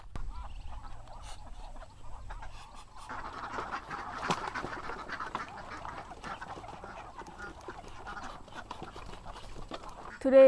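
Ducks quack repeatedly near a new duck shelter, a busy, fairly close chorus of calls against outdoor background noise, with some voices heard now and then.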